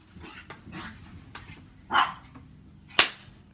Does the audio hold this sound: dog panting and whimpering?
yes